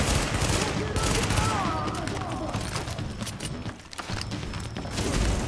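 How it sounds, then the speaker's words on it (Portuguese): Gunfire in The Division co-op game rattles from behind in dense bursts of shots mixed with game noise, nearly continuous and fairly loud, with a voice talking over it. "tem alguém atirando nas nossas costas"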